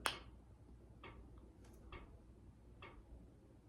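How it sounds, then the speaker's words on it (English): Faint, sparse clicks from a ceiling fan, four or five soft ticks at irregular intervals against a quiet room background. "do you hear that sound? That's my ceiling fan."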